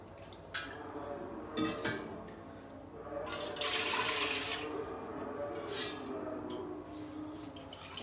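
Water pours into a vessel in short bursts, then a longer steady splashing pour midway, with a faint drip and clink between, close and clear without speech.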